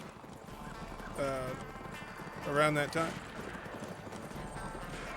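Hooves clip-clop in a quick galloping rhythm in the video game Darkwatch on Xbox, with a horse whinnying twice, while a person talks over it.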